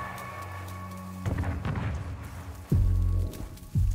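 Sniper gunfire in Call of Duty: Modern Warfare 2 lands as a few heavy, booming shots with echoing tails, spaced irregularly over a low background drone.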